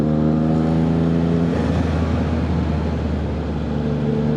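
A Triumph Trident 660 motorcycle engine runs fast on an open highway near Tanay, a loud sustained drone whose pitch shifts midway amid rushing wind noise, with no voices.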